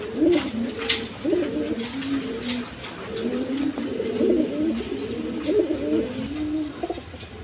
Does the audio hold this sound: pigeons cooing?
yes